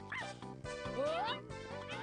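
Small cartoon dog yips and barks in a Wii sneaking game modeled on What's the Time, Mr. Wolf, a few short high-pitched barks over game music and someone talking.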